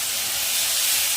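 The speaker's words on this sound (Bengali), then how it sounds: "এবার মশলাটা দিয়ে দিচ্ছি" Loud, close, continuous sizzling hiss as spice paste hits hot oil in a pan while cooking a Bengali fish kalia.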